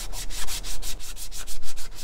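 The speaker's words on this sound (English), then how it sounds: "I'm just starting with a 220 grit, I think, which is pretty high" A 3D-printed helmet stand is hand-sanded with 220 grit sandpaper, giving quick, even back-and-forth rasping strokes, close and loud, with no voices.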